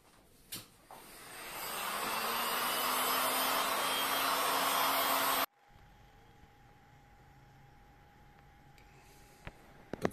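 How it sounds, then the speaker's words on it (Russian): A hair dryer blows on freshly painted leather car seats, switching on to a loud, steady whoosh for a few seconds before cutting off abruptly, leaving quieter background handling noise. "И сушим феном."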